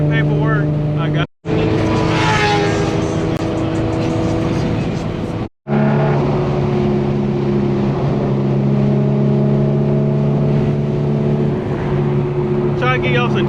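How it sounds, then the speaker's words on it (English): An Infiniti G37 fitted with an ISR single exit GT exhaust downshifts while driving on a windy day. Its loud, droning engine note climbs and drops through gear changes, and two brief silent gaps break the sound. "try to get y'all some downshift"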